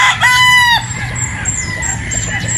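A straight comb Possum gamefowl rooster crows loud and close, one full cock-a-doodle-doo in the first second, followed by softer clucking and farmyard murmur.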